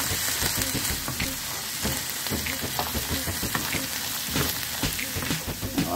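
Chopped carrot sautés in a pan of seasoning for Greek-style rice, a loud, steady close sizzle and crackle with occasional stirring scrapes, and no talking.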